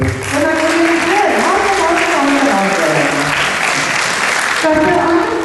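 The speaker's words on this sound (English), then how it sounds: "Please give all of the people that were on stage a big hand of applause." An audience at an institute celebration claps in a full, steady round of applause, with voices calling out over the dense patter until it tapers off near the end.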